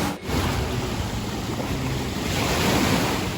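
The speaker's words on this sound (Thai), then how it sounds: "เพราะว่าคลื่นแรงมากๆเลยนะครับ" Strong sea waves roll in at Jomtien Beach, a broad, continuous roar of surf mixed with wind buffeting the microphone, loud and close throughout.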